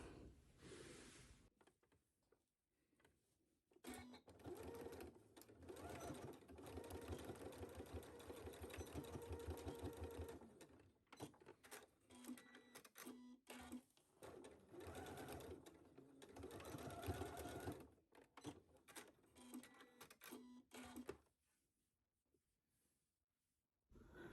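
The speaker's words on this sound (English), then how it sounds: "top stitch it at our machine along with this guy" A sewing machine top-stitches the folded edge of a fabric ornament, running in several bursts with short pauses between, close and steady, with no talk over it.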